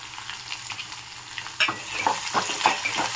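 Onions and garlic cloves fry with tempering seeds, a soft sizzle turning louder and crackly partway through, with stirring scrapes and spatters close by, no talking.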